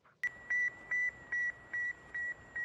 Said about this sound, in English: Sputnik 1 reminded the world what it was with its signature beep.